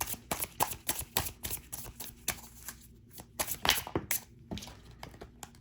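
Tarot cards being shuffled and drawn by hand, rapid bursts of crisp riffling and slapping card sounds in an uneven rhythm, close and fairly quiet, with a brief pause partway through.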